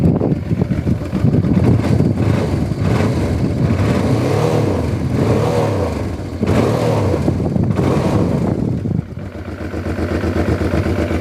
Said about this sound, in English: Let's give it a good rev.